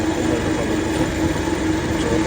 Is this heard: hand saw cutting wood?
no